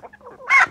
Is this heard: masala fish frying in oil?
no